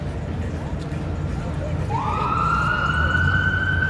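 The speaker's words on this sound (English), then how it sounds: "there's a very good chance that ambulance is just going to stop right at Victoria Street." An ambulance siren on a downtown Toronto street on a Friday night rises in and wails steadily from about halfway through, fairly close and loud over continuous city traffic noise.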